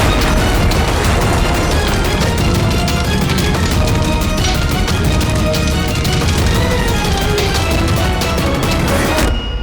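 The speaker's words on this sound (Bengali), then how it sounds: "ও নো, বুম, পালাও এখান থেকে।" A bomb blast in a Bengali police drama comes through as a loud, dense roar with repeated crashing bursts that stays heavy for nearly ten seconds before cutting off abruptly near the end, with no talking over it.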